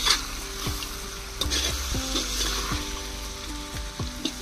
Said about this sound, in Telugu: ఇప్పుడు మొత్తం ఒకసారి మిక్స్ అయ్యే విధంగా కలుపుకుందాం.